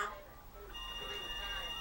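A telephone ringing indoors with a steady electronic tone sustained through the clip, moderately faint, over a low background hum.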